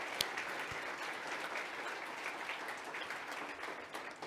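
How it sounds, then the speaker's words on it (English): An audience at a national gathering on unmarked burials in Winnipeg applauds steadily for several seconds after a speaker's testimony. The clapping comes from a medium-sized indoor crowd and is heard with no speech over it. "Let's give him a big round of applause."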